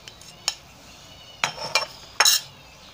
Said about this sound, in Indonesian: Ini kita aduk sampai rata